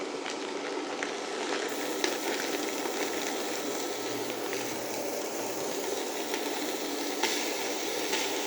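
Just under a pound of hamburger meat browns in a pan for spaghetti sauce, giving a continuous, even sizzle and hiss at close range, with a few faint clicks and no talking.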